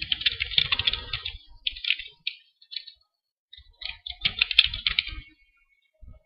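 Close computer keyboard typing as a label goes onto a digital map line, coming as two runs of rapid clicks split by a short pause, with a few isolated taps at the end and no voices.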